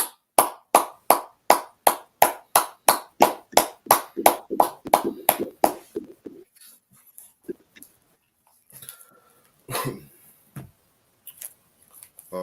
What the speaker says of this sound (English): Let's clap it up for Peace Officer 5000 abundant